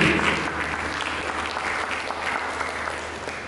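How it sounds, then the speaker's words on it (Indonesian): Church congregation clapping during a sermon, a full, sustained round of applause from many people at a fairly loud, even level throughout. "Berikan tepuk tangan untuk Yesus."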